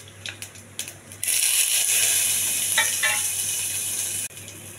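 Mustard seeds, cumin and dried red chillies hitting hot oil for a tempering, a sudden loud sizzle that holds steady for about three seconds after a few light taps, then stops abruptly.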